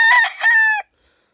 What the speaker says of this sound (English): this rooster, he is kind of mean